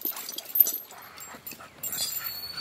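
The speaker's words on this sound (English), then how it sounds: "That's his puppy right there. Female pup." A female puppy whimpers and gives soft yips in short, faint bursts over a quiet background, with a brief louder yelp near the start.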